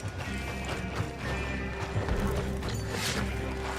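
Horses running in Red Dead Redemption 2, with rapid hoofbeats clopping under a busy game mix of rumble and clatter, moderately loud and continuous, with occasional muffled voices.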